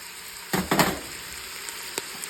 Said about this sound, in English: Got 2 pounds of ground beef for your Philly cheesesteak pasta. Throw in a half a yellow onion that you chopped up.